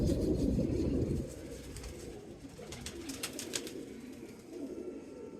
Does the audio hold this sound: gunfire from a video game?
no